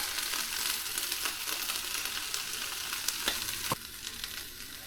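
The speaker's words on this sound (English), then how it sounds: "Then I'm going to finish frying the onions and the peppers" Onions and peppers fry in a pan outdoors at a remote shed, with a steady close sizzle, a few small crackles and a sharp utensil tap near the end before the sizzle softens slightly.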